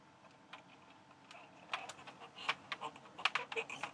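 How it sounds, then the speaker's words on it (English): Keys are pressed one after another on a Commodore 64 keyboard during a keyboard test, a run of quiet, close plastic clicks that speeds up toward the end, with no voices. "It's not the easiest keyboard to press, this one, for some reason."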